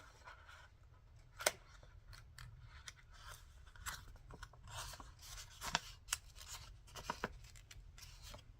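Scissors cutting paper for a handmade journal cover, heard as faint scattered snips and crisp clicks over a quiet, low background hum.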